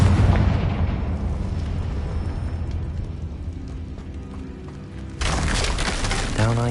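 A Confringo fire spell explodes in the video game Hogwarts Legacy, giving a heavy rumbling boom that decays over several seconds before a second bright crackling burst erupts, loud and close.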